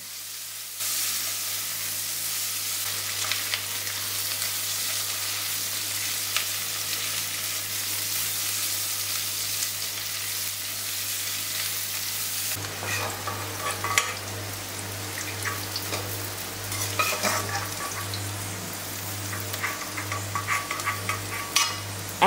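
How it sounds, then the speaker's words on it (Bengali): Mixed vegetables with peas and sweet corn fry in oil for navratan korma, a steady close hiss of sizzling that turns busier and more crackly partway, with scattered stirring scrapes and no talk. "আরও কিছুক্ষণ ভেজে সবজিগুলোকে তুলে নেব"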